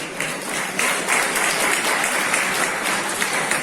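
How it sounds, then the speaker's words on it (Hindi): An audience at a college seminar breaks into loud, dense applause, many hands clapping at once in a steady roar that fills the hall and holds strong for several seconds. "एक बार जोरदार ताली आप लोगों को दिया।"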